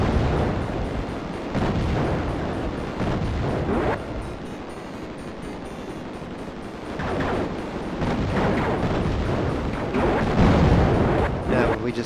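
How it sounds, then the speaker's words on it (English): Explosions rumble through a Raptor: Call of the Shadows shoot-'em-up session as a mega bomb detonates, bursts of booming noise rising around the four- and eight-second marks over a steady game soundtrack, with a player talking throughout. "Now we just did a mega bomb there."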